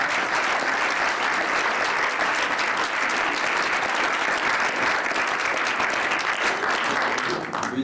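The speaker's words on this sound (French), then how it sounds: "je voudrais que vous les applaudissiez." A cinema club audience applauds the actors, sustained dense clapping from a sizable crowd, steady and fairly loud throughout before easing off at the very end.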